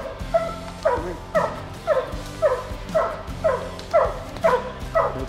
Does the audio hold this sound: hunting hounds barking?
yes